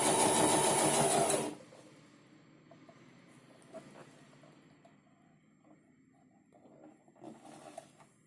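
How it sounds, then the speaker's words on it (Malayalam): A sewing machine stitches a churidar top, running in a loud, steady whirring burst for about a second and a half, then stopping, followed by quiet handling noises and a brief soft restart near the end. "വീണ്ടും നമ്മൾ പ്രഷർ ഫുട്ട് താഴ്ത്തിയതിന് ശേഷം വീണ്ടും നമുക്ക് സ്റ്റിച്ച് ചെയ്യാം"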